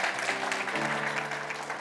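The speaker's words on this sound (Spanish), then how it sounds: "Denle ese aplauso fuerte a Cristo." Applause from a church congregation during a worship service, a dense steady wash of clapping lasting under two seconds, with sustained musical tones running beneath it.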